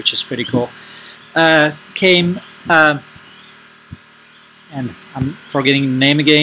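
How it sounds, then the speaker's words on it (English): A generator runs steadily in the background at a night insect-collecting site, a constant low mechanical hum beneath someone talking close by. "You can hear the generator in the background."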